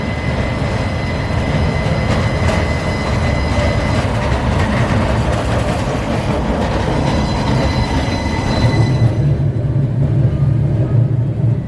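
A Portland streetcar runs on its rails with a loud, steady rumble and clatter of rolling wheels, and the noise thins out near the end. No one speaks.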